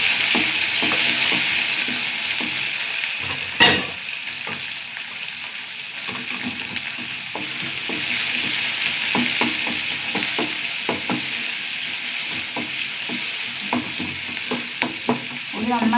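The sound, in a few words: shallots frying in a pan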